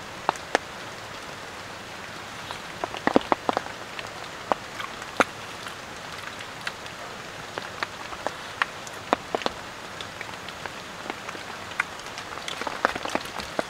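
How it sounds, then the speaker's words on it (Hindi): Steady heavy rain patters on a bushcraft shelter in deep forest, a dense hiss broken by scattered sharp drips and taps close by, with no voices. "ज़्यादा बारिश लगातार जा रही है,"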